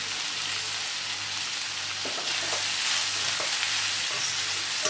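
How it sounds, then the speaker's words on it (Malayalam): Crushed shallots, garlic and ginger fry with onions in a pan for Kerala chicken roast, giving a steady, dense sizzle with faint stirring scrapes, close and continuous without voices. "ഈ സമയത്ത് നമുക്കിതിലേക്ക് ചതച്ച് വെച്ചിരിക്കുന്ന ഉള്ളിയും വെളുത്തുള്ളിയും ഇഞ്ചിയും കൂടി ചേർത്ത് കൊടുക്കാം."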